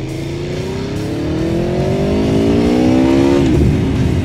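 An Aprilia Tuono V4 Factory motorcycle engine revs up, its loud, close drone rising steadily in pitch for about three seconds before easing off, with no talk over it.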